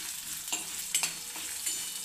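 Coriander seeds, cumin and garlic roast in a pan for a hot Marathi chutney, giving a soft, steady crackling hiss with a few faint scraping stirs.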